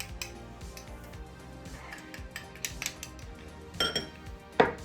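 Cornstarch slurry, two tablespoons of cornstarch, stirred in a bowl for a slow cooker brown sugar chicken glaze. A utensil clinks and taps against the dish in scattered bursts, with a couple of sharper knocks near the end.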